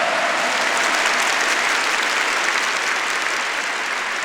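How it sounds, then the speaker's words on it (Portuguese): A church congregation claps loudly and continuously at a Pentecost Sunday service, a dense, even roar of applause filling the room without pause. "Aplauda com mais força."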